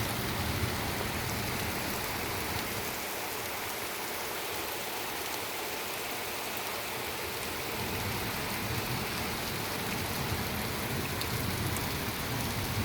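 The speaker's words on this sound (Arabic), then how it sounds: "بس هيك حبيت اصور لكم هالمطر والجو الحلو" Steady rain pours down outdoors in the Netherlands, a dense, continuous hiss of drops striking surfaces close by, unbroken and fairly loud throughout with no voices.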